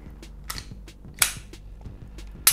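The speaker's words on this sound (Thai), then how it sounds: "เคลียร์ปืนให้ปลอดภัย" A Glock pistol is cleared for safety, producing a few sharp close metallic clacks and snaps of slide and parts, with softer handling clicks between them in a quiet room.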